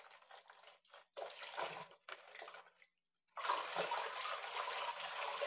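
Tap water runs over fresh broccoli in a kitchen sink as vegetables are prepared, a steady hissing stream that breaks off briefly and then returns louder and unbroken.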